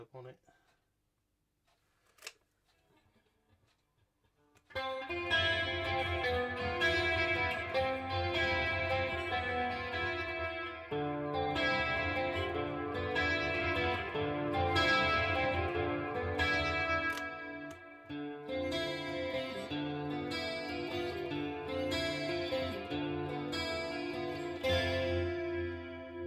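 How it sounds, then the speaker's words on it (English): An electric guitar on the neck pickup plays chords through a Boss Waza Craft CE-2w chorus pedal with heavy reverb, sustained, shimmering and lush, after a few seconds of near silence. "See what it sounds like with a lot of reverb on it."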